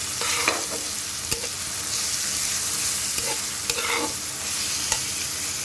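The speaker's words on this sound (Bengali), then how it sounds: "এই পেঁয়াজ মরিচটা ভাজা হয়ে গেলেই আমি দিয়ে দেব চাল আর আলু" Onions and chillies frying in a pan: a steady close sizzle with several sharp spatula scrapes and clicks as the mixture is stirred, no voices.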